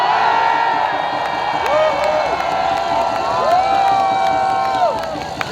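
An outdoor crowd at a Montreal peaceful protest march cheers and whoops in a sustained roar, with whistles and shouts rising above the steady noise.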